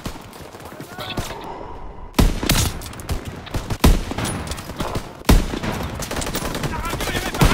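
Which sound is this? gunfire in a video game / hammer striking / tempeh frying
gunfire in a video game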